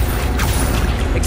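A spell is cast in the video game Hogwarts Legacy, a short, loud, dense burst of booming, creaking magical energy with a mechanical, crackling edge lasting about a second.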